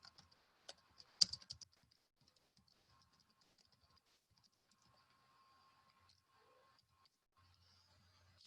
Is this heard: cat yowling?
no